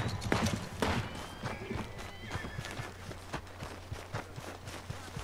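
Horse hooves clip-clopping at a steady rhythm in the Red Dead Redemption 2 video game, a quiet repeating beat over a low hum, with brief louder knocks near the start.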